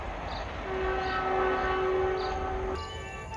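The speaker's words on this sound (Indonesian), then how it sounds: "Untuk klaksonnya klakson KRL, teman-teman." An electric KRL commuter train near Delanggu station in Indonesia sounds a long steady horn tone lasting about two seconds, fairly loud against a constant background hum, ending abruptly.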